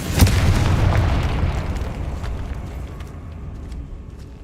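A Confringo spell explosion in the video game Hogwarts Legacy: one loud, close boom bursts out and then rumbles away over several seconds.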